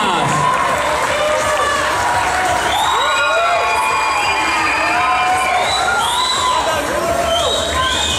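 Audience at a winter cosplay parade cheers, whoops and applauds for the last cosplayer, dressed as Ada Wong from Resident Evil; shrill children's shouts and high voices rise over steady clapping throughout, loud and close.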